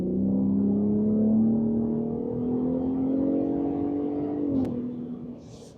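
A 2024 Ford F-150 Raptor pickup engine revs and holds a steady, throaty drone through its sport exhaust mode, rising slightly before easing off and fading near the end.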